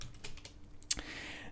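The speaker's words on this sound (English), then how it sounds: "typing like this." Keystrokes on a computer keyboard, a quick run of soft clicks followed by one sharper, louder key hit near the end, all fairly quiet and close.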